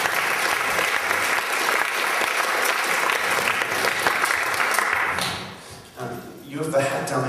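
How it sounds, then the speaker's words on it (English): An audience at a New Zealand magic convention applauding, dense sustained clapping from a crowd that fades out near the end, with voices heard as it dies down. "give these guys a big clap"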